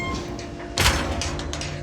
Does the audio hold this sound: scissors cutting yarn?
no